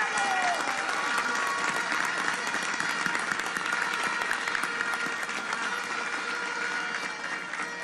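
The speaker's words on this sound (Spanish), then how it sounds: "Vamos a darle un aplauso a todos." Crowd applause at a Modern Revolutionary Party (PRM) internal election event: a large, continuous wash of clapping with crowd noise, loud and sustained throughout.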